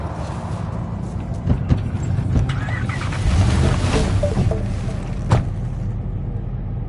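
Car engine rumbling steadily as a vehicle is driven through city streets in Cyberpunk 2077, a continuous low drone with occasional brief knocks and swells, no talking.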